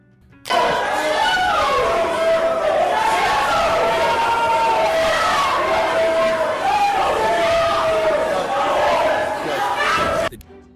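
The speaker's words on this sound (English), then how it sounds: "a collective outcry erupts from the gallery. Her supporters begin shouting in protest, voicing their discontent over the ruling." A courtroom gallery crowd erupting in loud protest after a ruling, many voices shouting and yelling together in a sustained, dense outcry that starts abruptly and cuts off near the end.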